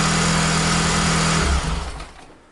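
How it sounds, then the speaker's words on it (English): An engine fitted with a KTR Sport throttle body kit idles smoothly after its throttle bodies are balanced, holding a steady even hum before it is switched off and winds down to quiet. "the engine is now sounding a lot smoother"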